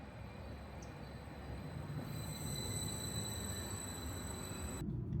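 Inside a moving FLIRT passenger train on the Valley Lines, a steady low rumble of wheels and carriage fills the cabin, with a thin, high electric whine running continuously above it.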